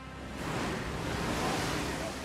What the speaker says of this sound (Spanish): otra compañía de bomberos se ve sorprendida por el repentino oleaje causado por la tormenta